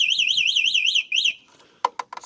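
An electric bike's anti-theft alarm wails in a rapid rising-and-falling electronic siren, loud and close, cutting off after about a second, followed by a few sharp clicks and beeps.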